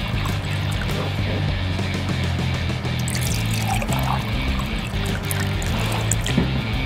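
Red and blue water poured into a second cup at a kids' colour-mixing table, a steady close trickle and splash of liquid filling the cup throughout, with no talking over it.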